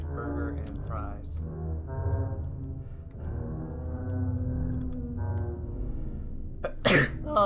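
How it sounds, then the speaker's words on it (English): A single sharp sneeze bursts out near the end, loud and close, after several seconds of a humming voice and a game soundtrack playing underneath. "I had a sneeze"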